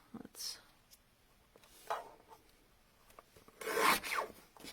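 A paper trimmer cuts small strips off a papercraft card, giving a few brief scraping swipes, the last one longest and loudest, quiet and close against a faint background.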